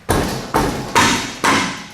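Four heavy hammer blows land on a car tire to break a rusted wheel loose from a Toyota Corolla hub, each a loud close thud spaced about half a second apart with a brief ringing decay.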